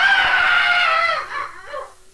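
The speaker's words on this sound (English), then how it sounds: "from the cabin, the dreadful screech that wailed through the ship and died away" A shrill, dreadful screech wailing from a ship's cabin, loud and sustained before it wavers downward and dies away within about two seconds.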